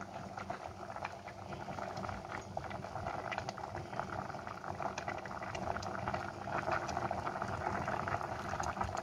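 Shrimp sinigang with papaya boils in a pot, a steady close bubbling and simmering that runs throughout, fairly faint, with no talking.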